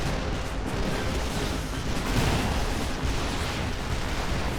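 Mag mines going off on a structure in Command and Conquer: Red Alert: a continuous rumbling roar of explosions and crackling bursts, dense and steady, with no gaps.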